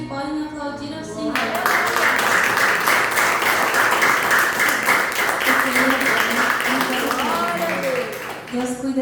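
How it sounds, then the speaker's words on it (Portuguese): Congregation applauding during a church service, a sustained block of clapping that starts abruptly, with a voice heard before it and singing or speaking tones under it and after. "aqueles que podem aplaudir ao Senhor"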